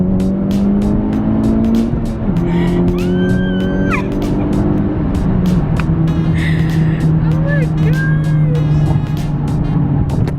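Honda Civic Type R, fitted with a Hondata tune, pulls hard through second gear. The engine note rises steadily and loudly from inside the car, and excited voices break in over it.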